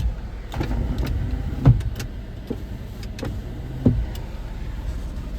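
Power windows on a Jeep Wrangler Unlimited Sahara 4WD whir up and down in several separate runs, each ending in a soft thunk, close and moderately loud over a low steady hum.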